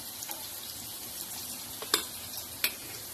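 Ash gourd slices fry in hot oil in a pan, a soft, steady sizzle close by, broken by two or three sharp crackling pops.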